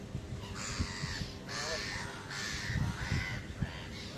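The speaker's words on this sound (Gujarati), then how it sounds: "કાગડાને એટલા નજીકથી તમે ક્યારેય જોયા" Several crows caw close by in the Lake District, UK, in a series of harsh, rasping calls, repeating every second or so, with faint voices in the background.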